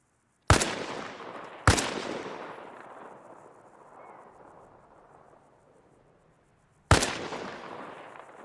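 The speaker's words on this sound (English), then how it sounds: "we'll rip a couple shots" Three rifle shots fired in the video game Arma Reforger, sighted at about 300 meters. Two sharp, loud cracks come close together, followed after a long decaying echo by a third.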